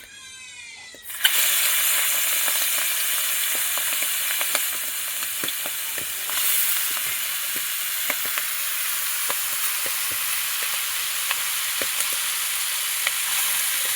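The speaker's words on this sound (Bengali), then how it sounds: "তেলের মধ্যে একটু হলুদ দিয়ে দিয়েছি, তার মধ্যে ঝিনুকগুলো দিয়ে দেবো।" Clams drop into hot oil seasoned with turmeric, setting off a sudden loud, steady sizzle with scattered sharp crackles that continues close up without pause.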